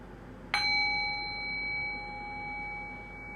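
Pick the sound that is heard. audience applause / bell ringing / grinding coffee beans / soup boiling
bell ringing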